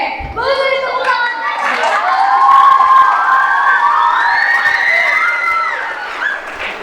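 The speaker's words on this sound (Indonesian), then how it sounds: "Beri tepuk tangan." A school audience after a class 8 drama performance cheers and shouts loudly, with high, wavering voices rising and falling over a background of crowd noise, loudest in the middle before easing off.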